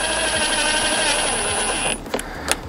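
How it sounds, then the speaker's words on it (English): An impact wrench on its slowest torque setting seats winch gearbox bolts, giving a loud, continuous buzzing whir that cuts off near the end, followed by a couple of short bursts. "You don't have to do it up with a rattle gun, but here's a faster process"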